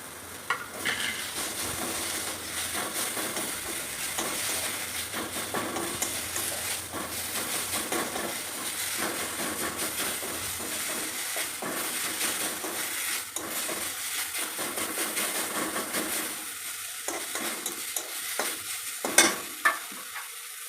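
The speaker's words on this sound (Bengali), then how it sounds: "পেঁয়াজ ভাজা ভাজা হয়ে আসলে এখন দিয়ে দেব কাঁচা লঙ্কা বাটা আর আদা বাটা" Onions frying in a pan with green chili paste and ginger paste, a continuous soft sizzle and hiss with occasional stirring scrapes, moderately quiet and close, with no talking.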